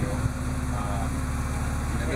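A 1972 BMW 2002 engine idling, a steady low mechanical rumble with an even pulse that holds constant throughout, close and fairly loud.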